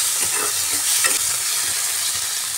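A pan of food sizzles loudly and steadily while it is stirred and fried until dry and loose. Close, continuous frying hiss with no voices.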